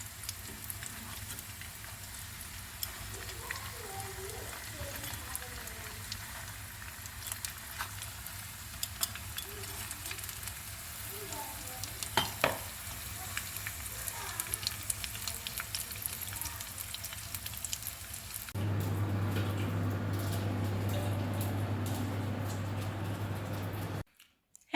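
Lumpiang shanghai spring rolls fry in hot oil with a steady close sizzle and crackle throughout, and the sizzle grows denser and louder near the end, with no one talking.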